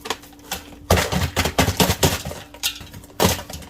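Frozen mustang grapes drop into a cooking pot with a close, rattling clatter, arriving in several quick bursts of clinking hits against the metal.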